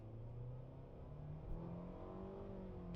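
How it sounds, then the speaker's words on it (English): A 2025 Mitsubishi Outlander's 2.5-liter four-cylinder with a CVT accelerates hard from a brake-torque launch. The engine drones steadily and rises slowly in pitch, holding a loud continuous whine from inside the cabin. "We're going to go ahead and stand on the brake with our left foot, stand on the accelerator with our right foot"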